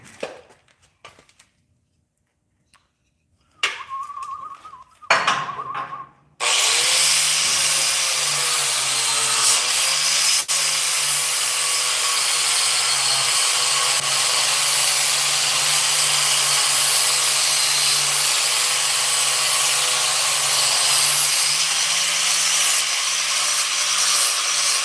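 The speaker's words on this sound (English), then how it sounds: "Just let me see that grinder right there. I got some grind." Steady grinder whine in a garage runs continuously for about twenty seconds, loud and unbroken after a few short bursts and quiet gaps at the start.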